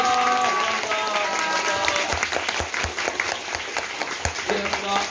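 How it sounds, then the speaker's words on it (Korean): A theatre audience applauds the actors and staff at a musical's curtain call in Myeongdong, a full, sustained round of clapping with a few scattered cheers and voices mixed in. "배우분들께 큰 박수, 스태프분들께 큰 박수 부탁드리겠습니다"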